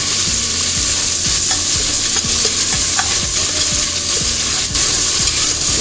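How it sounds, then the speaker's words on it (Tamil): Onions sautéing in a pan for prawn gravy: a loud, close, continuous sizzle with a spatula scraping and stirring in a steady repeating rhythm, and no talking. "இப்போது வெங்காயம் 2 கட் பண்ணி வச்சுட்டு அதையும் சேர்த்துருவோம். சேர்த்து நல்லா வதக்கி வச்சுருவோம்."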